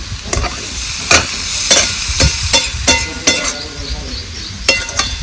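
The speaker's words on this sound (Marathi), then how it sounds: "आपल्याला तेल फुटोपर्यंत मसाला शिजवून घ्यायचा आहे" Onion-tomato masala frying in oil for a dried Bombay duck chutney, with a steady loud sizzle and a series of sharp spatula scrapes and stirs against the pan.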